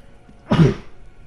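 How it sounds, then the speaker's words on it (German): A single short, sharp sneeze bursts out close by, loud against a quiet background, lasting well under half a second. "Muss ich einmal niesen? Entschuldigung."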